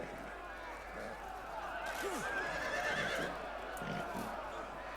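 A horse neighs once with a rising and falling whinny amid the clamour of a medieval battle in Total War Medieval Kingdoms, heard over steady crowd and combat noise.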